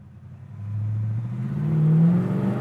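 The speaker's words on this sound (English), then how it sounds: "Hear the four barrel carburetor open up." A 1967 Oldsmobile Cutlass Supreme V8 accelerates hard, its four-barrel carburetor opening up as the low engine note climbs steadily in pitch and grows louder over a couple of seconds, heard from inside the car.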